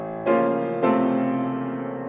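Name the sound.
piano chords blurred with the damper pedal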